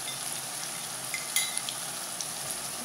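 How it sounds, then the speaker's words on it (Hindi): Ground green masala with salt, coriander powder, turmeric and garam masala frying in a pan for an egg curry, a steady close sizzle with occasional small pops and spatula touches, no voices. "इसको हम अच्छी तरह भूनेंगे मसाले को"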